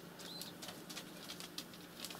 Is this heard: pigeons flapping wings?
yes